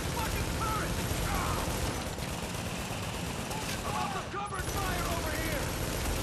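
Gunfire from a deployed turret shooting at enemies in The Division, during a fight at the Queens Tunnel Camp. Dense, continuous bursts of shots run throughout, with someone talking over them.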